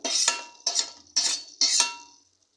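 Ivy gourd vegetable stirred in a pan with a metal spoon: four distinct scraping, clattering strokes in a steady rhythm, close and clear, with no talking.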